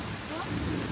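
Heavy monsoon rain pours down in a steady, dense hiss close by, with a low rumble underneath, continuous through the short clip.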